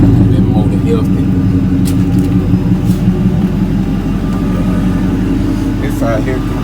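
A healthy car engine idles steadily at close range, a continuous low rumble and hum throughout, with someone talking over it.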